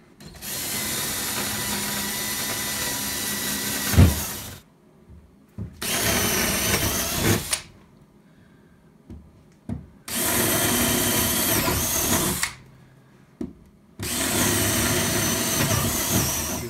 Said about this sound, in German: So, dann bohren wir jetzt hier 4 Löcher rein.